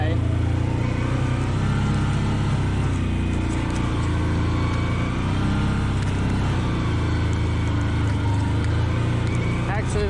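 A CF Moto 800 XC side-by-side driving in two-wheel drive high, its engine a steady droning rumble throughout with rattles and road noise, someone talking over it at times.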